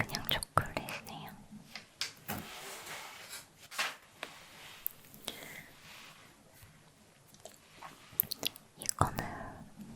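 Crunchy chocolate is chewed close to the microphone in crisp, irregular bites and crunches, with soft whispering in between and a quiet, intimate feel.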